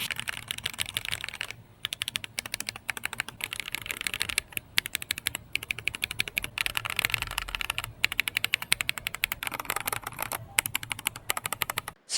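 Steady close typing on an Epomaker Tide75 mechanical keyboard fitted with Peace Lily switches and ceramic keycaps, a dense run of soft clacky keystrokes with a few brief pauses, no speech.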